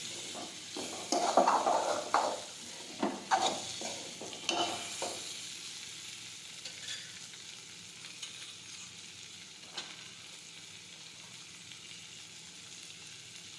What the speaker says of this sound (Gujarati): થોડી વાર આ રીતે ફેરવશું એટલે લોટ છે એ શેકાઈ જશે